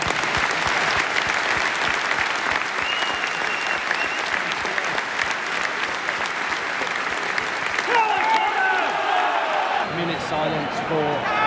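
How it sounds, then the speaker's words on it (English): Sustained applause from a large football stadium crowd during a minute's applause at Tottenham versus Frankfurt, dense and steady, then thinning toward the end as voices begin talking over it. "Please join us in a minute's applause"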